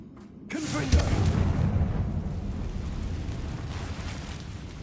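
A Confringo blasting spell going off in Hogwarts Legacy: a deep booming explosion after a short quiet start, followed by a rumbling roar that slowly fades.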